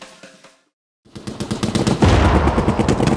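Sustained automatic gunfire as a sound effect in a manga trailer set on the Burma front of the Pacific War in 1942. The quick, heavy shots begin abruptly after a brief silence and grow louder and denser.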